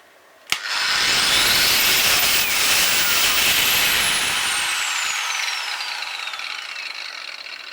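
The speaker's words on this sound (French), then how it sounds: "quand on met en route, elle ne démarre pas d'un seul coup." Soft-start angle grinder spinning up gradually and smoothly accelerating, its whine rising steadily to a loud, sustained high-pitched hum after a sharp switch click, then easing slightly near the end, with no talk.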